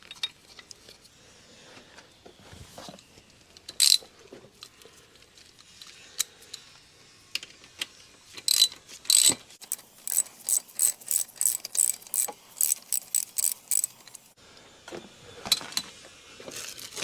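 Ratchet clicking in quick bursts while a bolt is run down on a BMW N52 oil filter housing during a gasket replacement, with sharp close metallic clicks, a dense fast run in the middle and scattered taps around it.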